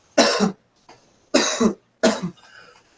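Three harsh coughs burst out close by, spaced about a second apart, with brief silence between them.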